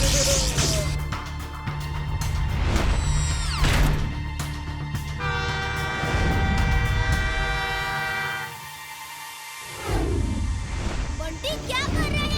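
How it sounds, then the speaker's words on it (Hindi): A cartoon train approaches on the track with a loud horn and rumbling rail noise, sustained and close, with musical score and brief voices over it. "वो देखो ट्रेन आ रही है और तुमने ट्रैक तोड़ दिया।"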